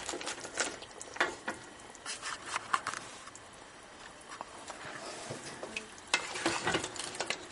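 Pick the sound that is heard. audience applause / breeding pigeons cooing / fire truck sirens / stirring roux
stirring roux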